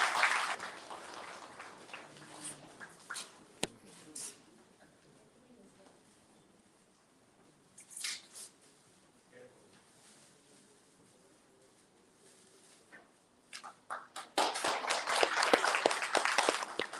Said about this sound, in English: So I hope we can reward it with some nice claps in the seminar hall,